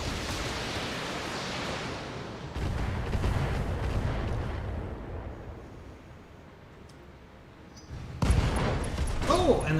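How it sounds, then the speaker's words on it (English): A Shadowhawk mech's engine explodes in the BattleTech video game, a loud sustained burst of rumbling blast noise that swells, dips, then surges again near the end. "Oh, and their Shadowhawk engine explosion."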